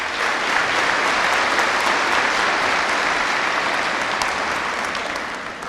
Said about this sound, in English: let's give him a round of applause as he comes and shares a couple words with us